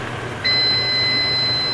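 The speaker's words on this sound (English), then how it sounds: "that's the timer on our pasta" A kitchen timer set for a big pot of boiling rigatoni starts up partway through, giving a steady, shrill electronic tone with a few short beeps over quiet kitchen background.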